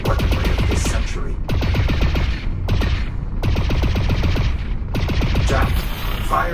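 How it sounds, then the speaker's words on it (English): A sci-fi weapon in the VR game Lone Echo 2 fires ionized bolts continuously. It makes loud, rapid, crackling bursts that run almost nonstop, broken only by a few brief gaps. "fire continuously at this last target."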